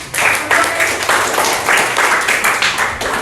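Applause in a sixth-grade elementary classroom, loud and close, with rhythmic bursts of clapping and some voices mixed in.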